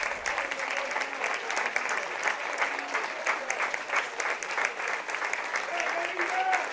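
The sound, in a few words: football crowd applauding substituted player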